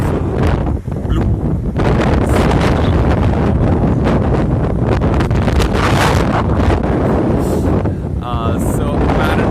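Strong wind buffets the microphone at Wollongong beach while surf rolls in, a loud, continuous roar with gusty rumble throughout, and a voice speaks faintly beneath it.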